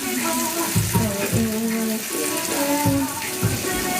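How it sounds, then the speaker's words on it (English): Tap water runs steadily while seafood is rinsed at a home kitchen sink, a continuous close hiss with light splashing and clatter throughout. "I'm gonna rinse these off"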